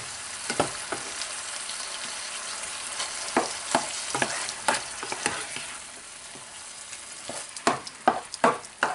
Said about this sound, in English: Now what we're going to do is we're going to add the rice to the meat.